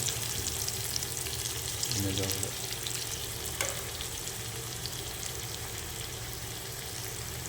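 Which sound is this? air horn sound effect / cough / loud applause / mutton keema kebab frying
mutton keema kebab frying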